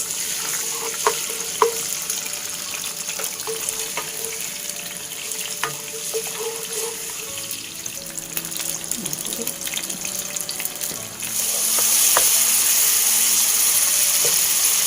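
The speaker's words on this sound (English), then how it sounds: "now I'm going to stir fry this" Blended ingredients for Hailam noodles are stir-fried in a pan, a steady sizzle broken by brief scrapes and clinks of the utensil, growing louder and brighter near the end.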